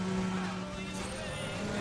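Mitsubishi Evo car driving in Need for Speed The Run, taking an off-road shortcut: a steady engine drone with sustained tonal hum runs continuously at moderate level, with talk faintly under it.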